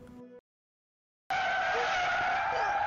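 A car loses control on a quiet road and skids after being rammed by a black Toyota Fortuner, heading toward a tree. A short burst of sound cuts to silence, then a loud, sustained tire screech with engine noise runs to the end, with no talking.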